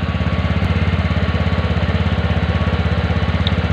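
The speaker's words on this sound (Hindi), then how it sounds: "आप लोग थोड़े देर के बाद इसका जो एग्जॉस्ट नोट है वो सुनिएगा, वो ऑटोमेटिकली कम हो जाएंगे।" A TVS Ntorq BS6 scooter engine idles close by, its exhaust note a steady, rapid, even pulsing throb that holds constant throughout.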